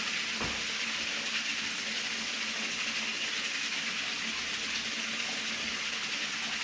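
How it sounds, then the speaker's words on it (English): Water runs steadily into a turtle pond as it is filled, a continuous close rushing gush that holds at an even level throughout with no voices. "Let's take the water off for a minute."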